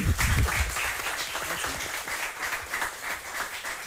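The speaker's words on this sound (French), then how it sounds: "Eric, ça va, on l'applaudit" Studio audience at a French TV quiz game show breaks into steady applause, loud at first then settling into a dense, even patter of clapping throughout.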